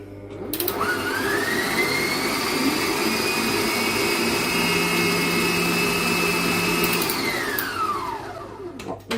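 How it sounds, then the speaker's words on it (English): A stand mixer beating two egg yolks for a lemon cake, its motor whirring up to a steady high whine, running loud and continuous before spinning down at the end. "I have my stand mixer out, so I hope that it will get my 2 egg yolks in here"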